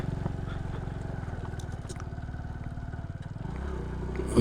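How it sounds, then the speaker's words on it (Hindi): A motorcycle labors up a steep, dangerous mountain road toward Kalam in first or second gear, its engine a loud, steady pulsing drone up close that swells briefly near the end. "इसलिए कभी फर्स्ट गियर और कभी दूसरा गियर लगाना पड़ता है।"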